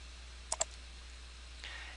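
Two quick, faint mouse clicks sound close together in a quiet room, followed by a soft brief rustle.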